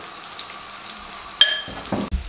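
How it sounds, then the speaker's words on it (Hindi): Slices of bread coated in besan batter frying in a pan, a soft sizzle that flares briefly with a sharper crackle and a clatter near the end. "ये सब मैं इस तरीके से फ्राई करूँगा।"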